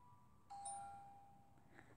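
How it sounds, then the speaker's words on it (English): A doorbell rings once indoors, a single faint chime that rings out and decays over a second, with no other sound around it. "There's a doorbell."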